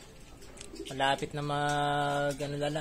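A homing racing pigeon coos at its loft during a south derby race, the rounded, warbling call loud and close for about a second and a half, with a voice speaking briefly and other birds faintly around.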